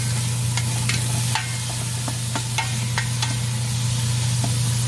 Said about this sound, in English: And I'm going to add my onions right in there.